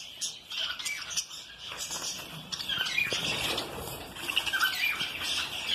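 Parakeets squawk and chirp busily in an aviary at an exotic bird breeding facility, a dense, continuous chatter of harsh calls and bright tweets with occasional wing flutters, fairly close and steady throughout.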